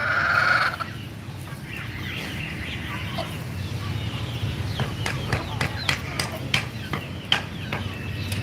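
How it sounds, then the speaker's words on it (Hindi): Aseel chickens, a hen leading about eighteen chicks, cluck and peep softly in a yard under steady background noise, with a voice nearby and sharp scratchy clicks in the later part. "ये देखो 18 चूज़े लेके घूमती है ये मुर्गी, इन सबको पाल रही है, सारे असील हैं"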